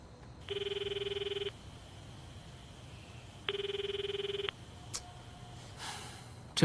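A telephone rings in two separate bursts of trilling bells, each about a second long with a pause between them, and no one picks up. A couple of faint clicks follow in a quiet room.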